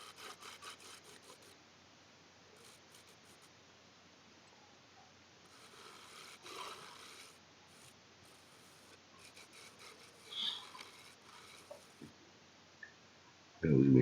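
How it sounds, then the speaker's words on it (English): Someone shapes away extra wood by hand on a guitar body, making faint, steady rasping and scraping strokes. A few louder scrapes stand out near the end, and the sound stays quiet throughout. "I'm just shaping down the extra wood"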